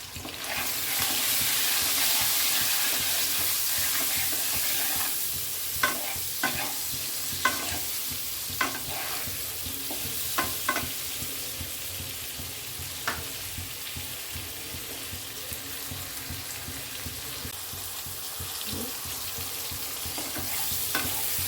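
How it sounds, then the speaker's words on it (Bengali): Pointed gourd with salt and turmeric frying in oil, a steady hissing sizzle with intermittent scraping clicks as a spatula stirs the pan, close and unaccompanied by talk. "একটু নেড়ে দিই"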